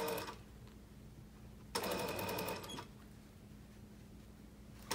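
A sewing machine runs a straight seam on a knife-edge bolster, sounding as a short, steady mechanical whir of about a second between quieter stretches of room tone.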